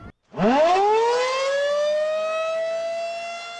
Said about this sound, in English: When the community sirens go off, do you know what to do?